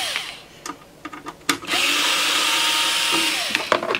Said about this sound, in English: I thought I had a little electric screwdriver somewhere.